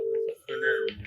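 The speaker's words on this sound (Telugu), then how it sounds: "Balanagar MRO phone cut" A telephone line after a call is cut off gives steady electronic tones, a held beep broken by a short gap and then a second tone with a brief higher blip.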